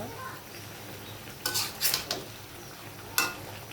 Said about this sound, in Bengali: রান্না করতেছি ফুলকপি সিম